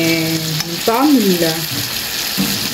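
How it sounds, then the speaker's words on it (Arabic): Chicken pieces fry in a pan with vegetables, a loud continuous sizzle close by, with brief stirring and scraping sounds layered over it. "هنزل الفراخ كده فيها واكمل بقيه السوا بتاعها"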